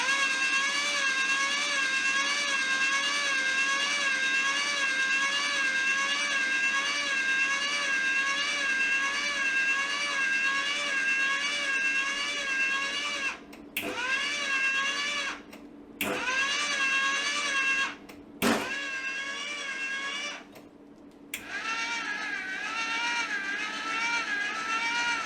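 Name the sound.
MIG welder wire feed motor running at low wire speed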